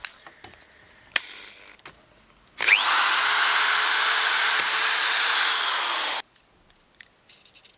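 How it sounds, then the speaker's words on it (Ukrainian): A Vitals-Master Et1380HL impact drill bores into a wooden board, a loud steady whine lasting several seconds, with clicks and handling noises before and after. "Сверлимо."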